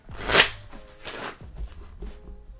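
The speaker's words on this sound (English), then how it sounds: "you did the shuffle right at the second" Cards for a Lorcana card game are shuffled in a few quick riffling bursts, close and crisp, the first the loudest, with soft handling noises between them.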